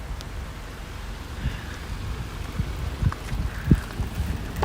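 Heavy rain starts falling during an Arkansas storm, a steady broadband hiss with a few scattered heavier drop hits, building slightly toward the end.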